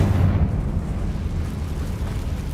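The Confringo fire spell in Hogwarts Legacy sets off a loud, sustained explosive rumble with heavy low boom that stays dense and steady, no talk over it.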